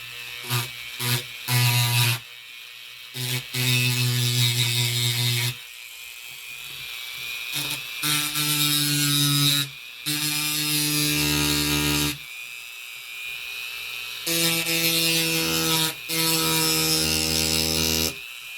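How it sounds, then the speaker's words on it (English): A Dremel rotary tool grinds on bracelet jewelry in loud, sustained high-pitched whining bursts, stopping and restarting repeatedly over about eighteen seconds, close to the mic with no speech. "So, anyways, got my Dremel."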